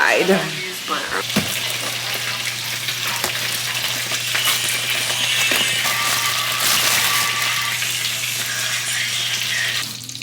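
Loud, constant sizzling of chicken frying in hot coconut oil, with occasional clinks and a steady hum beneath.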